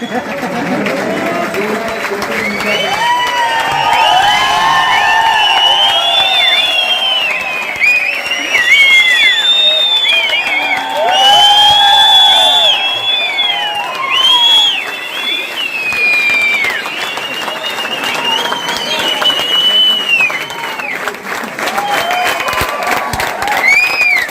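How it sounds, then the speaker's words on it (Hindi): A large university alumni audience in Himachal Pradesh applauds and cheers at length, dense clapping mixed with whoops and shouts that swell and ebb over about twenty-four seconds, with voices calling out through the crowd. "अब मैं इन तालियों का एक वीडियो बनाने वाला हूँ।"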